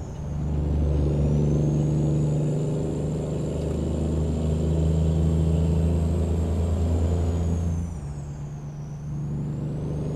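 A heavy truck engine in American Truck Simulator, with sound mods, drones steadily and loudly with a low rumble and high whine, dipping briefly near the end as it shifts.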